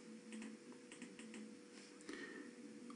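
Quiet, rapid tapping of a computer keyboard at close range, with irregular clusters of keystrokes over a steady low room hum and no talking.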